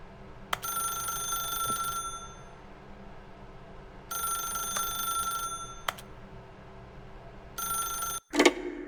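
A telephone rings in the video game The Stanley Parable: Ultra Deluxe, three separate electronic bursts with silent gaps between them, clear and alone, followed by a short click at the end.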